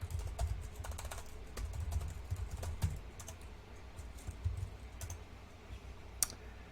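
Continuous rapid typing on a computer keyboard, a quiet stream of light key clicks with a few sharper taps, close up and without talk.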